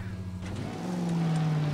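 A car driven in the video game L.A. Noire, its engine droning low and steady with a rising tone near the end, heard close and fairly quiet.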